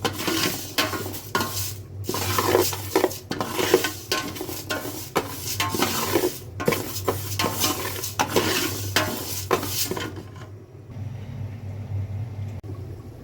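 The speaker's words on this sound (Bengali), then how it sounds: "হয়ে গেছে ডাল ভাজা।" Lentils for winter vegetable khichuri are fried and stirred in a pot, giving repeated scraping strokes of a spoon against metal over a soft sizzle and a low steady hum, before the stirring stops near the end.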